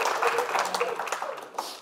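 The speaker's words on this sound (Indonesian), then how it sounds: "Boleh minta tepuk tangannya." Studio audience at a comedy roast applauding, a short burst of dense clapping that starts strong and thins out within about two seconds.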